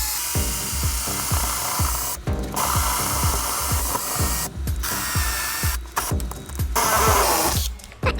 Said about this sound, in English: just drill a couple of holes in the corners here to get our jigsaw started